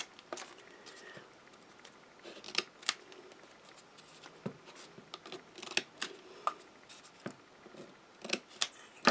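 Sharp scissors snip into the corner of a square story-frame album during assembly, a series of crisp, close cuts and clicks spread irregularly over quiet paper handling, with no talking.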